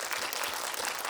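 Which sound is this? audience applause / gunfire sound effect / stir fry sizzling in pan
audience applause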